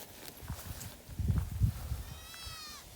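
Goats on a goat farm bleat close by in a brief burst, with shuffling and a few hoof knocks around them and a faint voice in the background.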